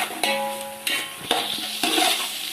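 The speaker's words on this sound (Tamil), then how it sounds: "இப்போ இஞ்சி பூண்டு அரைவை நல்லா வதங்கிடுச்சு" Ginger garlic paste sautéing in a pan for chicken biryani, with steady sizzling broken by several sharp stirring clatters; close and fairly loud, no voices.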